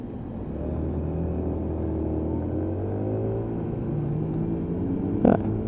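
A three-year-old Lexmoto Echo motorcycle, freshly serviced with a new spark plug, runs on a road test with a steady, close engine drone whose pitch rises and falls gently, with a brief louder bump near the end.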